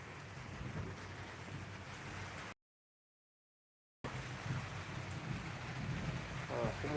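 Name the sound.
thunder during typhoon rain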